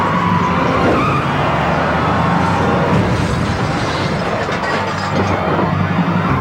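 A truck fishtails through traffic during a police chase after its tires are shot out, heard as a loud, continuous rush of engine and road noise with skidding and a siren mixed in, no voices.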